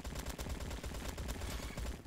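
Rapid automatic rifle fire from an RPK-74 in the Roblox shooter Bad Business, a dense continuous burst of close, loud shots rattling for about two seconds with no talking.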